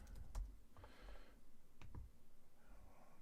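Fingers tapping a computer keyboard in short irregular bursts of quiet clicks, with brief pauses between keystrokes in a quiet room.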